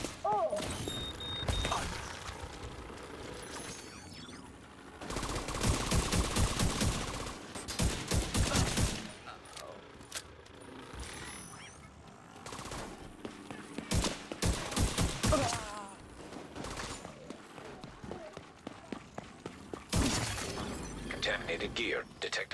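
Rapid bursts of video game gunfire crack out in dense clusters while headshots are landed, loud and close, with a player talking over parts of the shooting.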